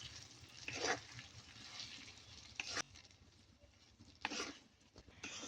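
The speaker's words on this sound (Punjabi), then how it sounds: "ਗਾਜਰਾਂ ਚੰਗੀ ਤਰ੍ਹਾਂ ਭੁੰਨ ਲੈਣੀਆਂ" Carrots roasting in oil in a pan for a spicy carrot and green chili pickle, a soft continuous low sizzle with a few scraping stirs, faint and close, no talking.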